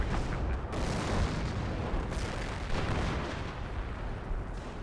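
An explosion goes off amid a World War II tank battle in Company of Heroes 1, heard as dense, rumbling booms and gunfire that sustain a loud, continuous roar.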